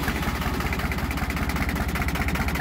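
A John Deere 1050 tractor's diesel engine idles at very low revs, close and loud, with an even, rapid chugging pulse and no talk.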